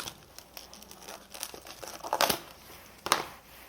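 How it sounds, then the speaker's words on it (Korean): A plastic-wrapped Shimano Dura-Ace 12-speed bicycle crank arm is unwrapped, with close, quiet crinkling and tearing of the plastic in scattered bursts and two sharper rustles near the end, with no talking. "비닐로 되어 있으니까 조심해서 한번 까보도록 하겠습니다"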